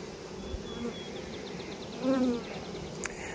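Honey bees buzz steadily around an outdoor hive, a continuous droning hum with a few individual bees flying close past, one passing louder near the middle.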